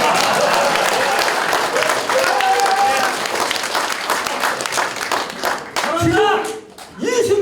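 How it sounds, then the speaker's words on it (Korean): A crowd at a Korean municipal council primary candidates' speech event claps loudly and steadily for several seconds. The applause thins near the end as a voice begins speaking over it. "박수 부탁드립니다."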